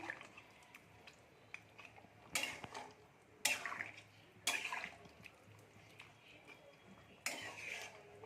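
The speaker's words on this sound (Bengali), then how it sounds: "নেড়ে দিচ্ছি।" A utensil stirs chicken in a cooking pan, making quiet, intermittent scrapes and sharp metallic clinks spaced a second or so apart over a soft background hum.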